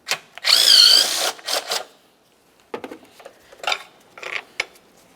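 Power driver spinning out the 8mm battery hold-down bolts on a 1994-2002 Dodge Ram 2500, a loud whirring burst followed by shorter bursts, clinking of loose hardware and brief ratchet-like clicks, close by.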